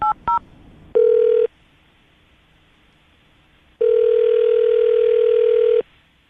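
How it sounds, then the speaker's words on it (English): A telephone number is dialed with a couple of short touch-tone beeps, followed by a brief steady dial tone, a pause, then a longer unbroken tone lasting about two seconds, loud and clear with no talking. "I'm going to dial the phone number right now"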